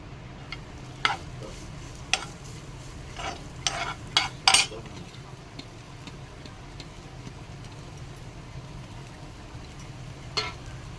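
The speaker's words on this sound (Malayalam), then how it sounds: "നെയ്യ് ഒന്ന് മെൽറ്റായി വരുമ്പോൾ കുറച്ച് തേങ്ങ" Grated coconut stirred in melted ghee in a pan for a jackfruit seed sweet. A gentle sizzle runs under it, with sharp spoon clicks against the pan coming now and then, close and without talk.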